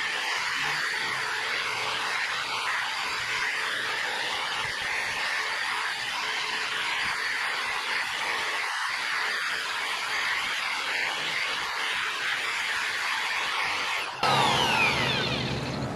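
A yellowed car headlight is sanded with 800 grit sandpaper, a loud, steady abrasive hiss that runs unbroken throughout and shifts in tone near the end.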